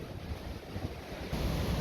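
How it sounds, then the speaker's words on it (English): Winter surf breaking on a beach at Manly in Sydney, a steady low roar of waves with wind buffeting the microphone, swelling louder toward the end, with no voices. "back out to this beautiful beach. Gorgeous waves."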